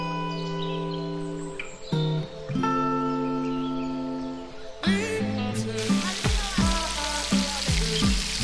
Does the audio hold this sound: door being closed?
no